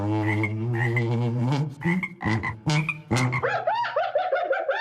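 Frogs croak loudly in a near, continuous chorus of deep throaty calls, breaking into faster rising chirps toward the end, played as a mystery sound on a radio quiz.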